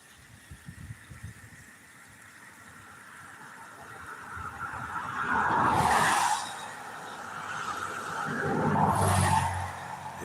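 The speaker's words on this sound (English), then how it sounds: "That was the only two cars headed north for a minute" Two cars pass one after another on South Dixie Highway, each swelling to a close, loud tire-and-engine whoosh before fading, over steady outdoor traffic hum.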